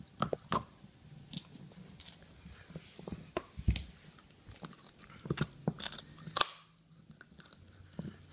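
A Shiba Inu chews a bull stick on the floor, with close, irregular crunching bites and wet gnawing clicks that come in uneven bursts and pause briefly near the end, fairly quiet with no talking.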